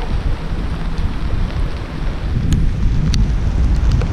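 Heavy rain pours down in Osaka, Japan, with gusty wind buffeting the microphone, a loud continuous roar with occasional sharp drips.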